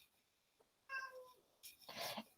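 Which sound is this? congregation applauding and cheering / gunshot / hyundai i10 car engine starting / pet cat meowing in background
pet cat meowing in background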